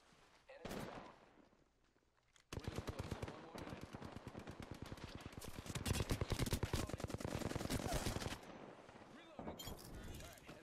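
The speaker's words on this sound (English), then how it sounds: "Somebody else was shooting, right?" Gunfire in Apex Legends: long, loud automatic bursts of rapid evenly spaced shots, starting after a single early shot and continuing for several seconds, with a player's voice in between.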